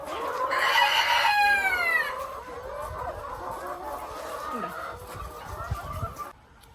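A rooster crows loudly nearby, followed by steady clucking and murmuring from a flock of egg-laying hens on a home poultry farm that fades out at the end.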